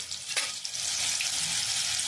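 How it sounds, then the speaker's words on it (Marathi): Ingredients for a spicy mango amti cooking in hot oil in a pan, a dense, loud, continuous sizzle with one brief clink near the start, no voices. "दोन मिनिटं याला तेलामध्ये वाफेवर होऊ द्यायचं."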